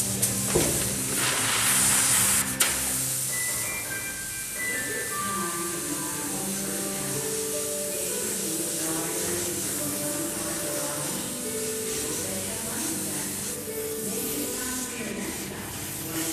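An Iwata LPH 80 spray gun loaded with etching primer gives a steady airy hiss that runs throughout, with a sharper burst of spray near the start and a tonal hum underneath.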